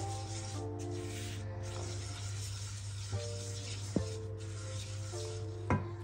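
Spices and chili powder are stirred in hot oil, with a soft continuous sizzle and rubbing scrape and a few brief utensil knocks against the pan, faint under a steady background hum.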